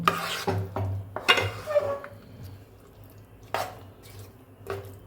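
Flour dough being mixed in a vessel, with intermittent scraping and rubbing strokes and occasional clinks of utensil against the container, fairly close and quiet.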